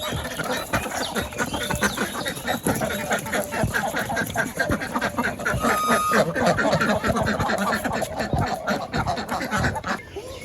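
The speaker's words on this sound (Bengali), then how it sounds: "নতুন হাঁস ছাড়ানো" A flock of newly bought ducks let loose in a Bangladeshi village, with dense overlapping quacking and clucking fowl calls close by and continuous throughout, plus some brief voices mixed in.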